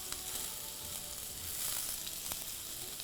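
Onion and bell pepper sautéing in a hot wok for Korean sweet-potato noodle japchae, giving a soft, continuous sizzle heard close by and fairly quiet, with no voices.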